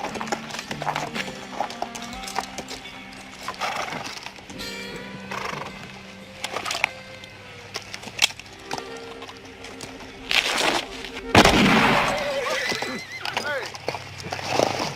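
Horses neigh and hooves clip-clop at a walking pace, with people talking over the animals and some rustling movement.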